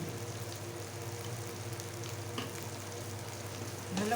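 Ghee and spices, half a spoon of turmeric among them, sizzle steadily in a hot pan, a dense continuous frying hiss with a faint stir or clink near the end and no talk.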